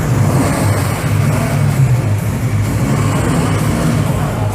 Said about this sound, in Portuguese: A Alfa Giulia aí roncando forte.